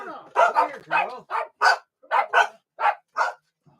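Several dogs barking in quick repeated bursts, about ten loud, close barks in a choppy rhythm with brief gaps between them.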